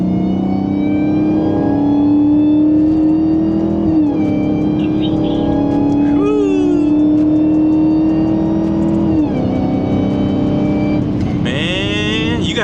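Dodge Charger Hellcat engine revving hard under acceleration, the pitch climbing and dropping sharply at each gear shift, with a loud whine riding over the exhaust note, close and continuous inside the car.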